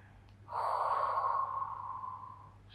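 One long, audible exhale through the nose during a post-run cool-down stretch, rising sharply and then fading slowly over about two seconds, close and alone.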